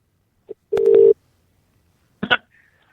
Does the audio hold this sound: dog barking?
no